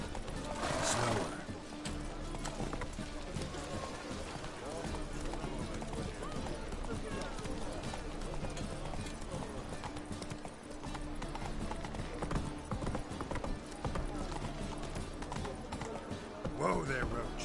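Horse hooves clip-clop in The Witcher 3: Wild Hunt, a steady rhythmic trot running through the whole stretch beneath continuous talking, with a brief whinny near the start and again near the end.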